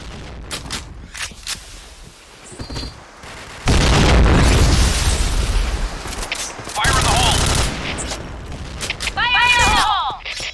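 Grenade blasts and rapid gunfire ring out in a tactical shooter match, a dense fusillade with booming bursts and bright metallic clatters, loud and close, with players' voices calling out in between.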